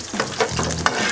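Garlic fries in hot oil, sizzling steadily at close range. The crackle is broken by scraping stirring strokes and a sharp clatter near the end.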